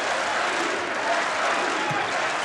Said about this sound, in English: this Carbondale Southern Illinois crowd still screaming for him